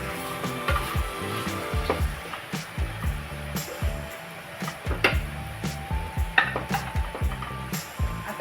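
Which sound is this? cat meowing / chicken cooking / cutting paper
chicken cooking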